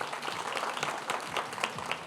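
A studio audience on a Pakistani cricket talk show claps in a broad, steady patter of many hands that fills the short stretch evenly.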